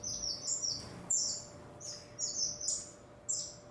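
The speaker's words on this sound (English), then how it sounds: "This cage is just birds waiting for their turn to go into the aviary" Small birds in an indoor aviary bird room, including gold-breasted waxbills, giving high, quick repeated chirps and tweets in short bursts over a faint steady electrical hum, moderately close.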